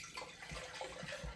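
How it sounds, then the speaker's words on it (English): Distilled water poured into an IKEA measuring cup, a quiet, steady splashing trickle with a few small bursts, close and alone. "So I'm going to pour out 1 liter of water from the distilled water that I mentioned earlier."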